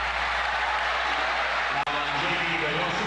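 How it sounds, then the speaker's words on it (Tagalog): A packed arena crowd roars steadily after a jump shot by Jaworski in a 1996 Ginebra vs Shell professional basketball game, a loud continuous cheer under an excited commentator's voice, broken by one brief dropout. "Jaworski getting it from the baseline and the crowd is wild"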